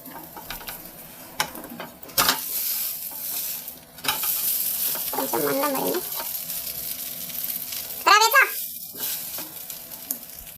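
A thick kaaram dosa sizzling on a pan at home, a faint steady fry with scattered scrapes and clinks of a spatula, a couple of brief rattling bursts, and no clear speech.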